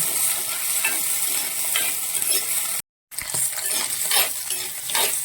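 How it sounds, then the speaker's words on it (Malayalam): Green chillies sautéing in oil for a curry give a steady close sizzle and crackle, with stirring scrapes in the pan and one brief silent gap. "പച്ചമുളക് നമ്മൾ ഈ ഇട്ട് നന്നായിട്ട് വഴറ്റിയെടുക്കണം"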